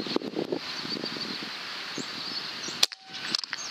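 A Destroyer-500 plenum air rifle, made by Ganso, fires a single sharp shot at a 45-yard target outdoors on a windy day, a brief crack near the end over steady wind and rustling.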